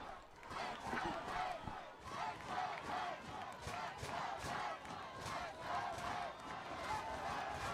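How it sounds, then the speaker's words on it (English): Floral Park fans at a high school soccer final at Farmingdale State chant "let's go Knights" in a loud, rhythmic crowd chant that repeats in steady pulses. The chanting stands alone, and the roar of the large crowd stays sustained throughout. "Now the Floral Park crowd getting loud. Chance of let's go Knights."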